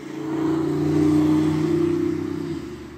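An old Chrysler Neon engine runs on a shop floor, off a car, with a steady, even idle hum that swells slightly and then eases back, close and continuous with no talk.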